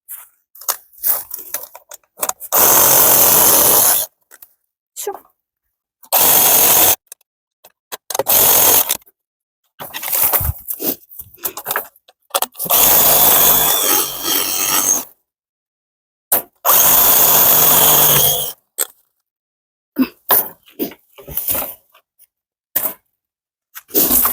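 A power tool with a thin blade cuts through old nails in reclaimed wood in a series of loud bursts of harsh buzzing and rasping, separated by quiet gaps.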